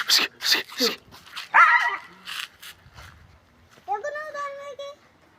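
A dog barks and yips among nearby voices, ending with a drawn-out whining cry.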